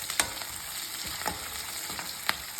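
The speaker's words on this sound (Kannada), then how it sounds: "ಇದೆಲ್ಲ ಫ್ರೈ ಆದಮೇಲೆ ನಾವು ನೆಕ್ಸ್ಟ್ ಕರಿಬೇವಿನ ಸೊಪ್ಪು ಹಾಕ್ತೀವಿ" Curry leaves fry in hot oil for puffed rice lemon rice, giving a steady close sizzle with a few sharp crackles and spoon scrapes against the pan.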